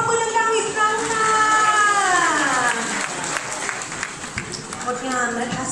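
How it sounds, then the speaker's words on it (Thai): Wedding guests clap at a Thai evening reception, a broad burst of applause under a bright sustained musical or vocal tone, with a voice talking over it and the crowd noise gradually thinning. "ขอเสียงปรบมือดังๆอีกครั้งค่ะ"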